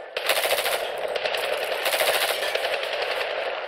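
Sustained rapid machine-gun fire in a firefight in the modern Medal of Honor shooter game, dense rattling bursts that continue loud and close without pause.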